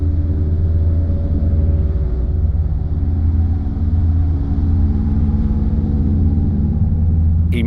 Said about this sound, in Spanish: Van concentrándose los carros blindados